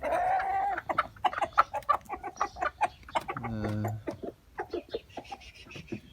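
Chickens cluck in quick, repeated bursts nearby, with a brief rooster call midway and a few faint voices underneath; the flock includes a single silver rooster and porcelain hens.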